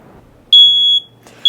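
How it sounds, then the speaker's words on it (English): A loud, piercing smoke alarm beep sounds close by in a kitchen, set off by a burning pizza, a sustained tone followed by the start of another beep, with no talking. "Is that a smoke alarm I hear?"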